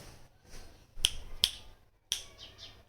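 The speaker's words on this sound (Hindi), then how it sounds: "शायद सुबह सुबह मेरी चुटकी का पावर काम नहीं कर रहा है" Several crisp finger snaps, spaced unevenly and close to the listener, cut through a quiet room one after another, the last followed by a couple of softer snaps, with no talking.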